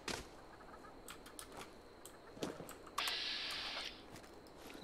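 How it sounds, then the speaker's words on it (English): A chicken clucks in Fallout 76 during late-night play, a few faint scattered squawks and clucks over quiet ambience, with a louder sustained call near the end. "I thought I heard a chicken."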